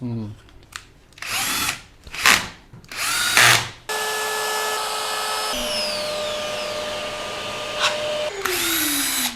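A power tool cuts a guitar body back by a couple of millimeters: several short, sharp whirring bursts are followed by a long, steady high-pitched cutting whine, close and loud.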